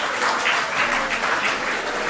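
Audience applauding at a children's abacus competition award and graduation ceremony in Kerala, a steady, moderately loud patter of clapping from a crowd that lasts the whole moment.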